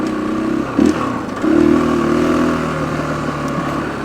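A 500cc single-cylinder motorcycle engine running close by, with two short rising revs, the second held for about a second before settling back to a steady idle.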